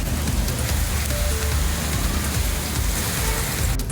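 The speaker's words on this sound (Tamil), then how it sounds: "புதுச்சேரியிலும் 7 மணி நேரமாக தொடர்ந்து வெளுத்து வாங்கிய மழையால் சாலைகளில் தண்ணீர் தேங்கியது." Heavy, steady rain pouring down during a cyclone in Puducherry, a dense continuous hiss of drops striking surfaces, loud and close, with no voices.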